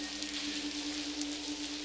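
Steady, faint hiss of rain pattering on a window ledge in a video game, an even wash of sound with no voices and a thin steady tone running beneath it.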